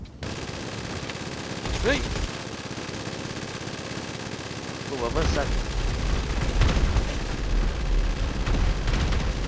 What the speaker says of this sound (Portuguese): Ainda tá tendo tiro lá embaixo